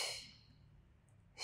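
A soft, close breath is pushed out during a Pilates mat exercise, quiet and airy at the start, fading into near silence before another breath rises at the very end.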